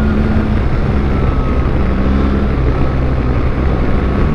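Steady, loud engine and wind roar from a BMW R 1300 GS Adventure motorcycle while riding, a continuous droning hum with no breaks.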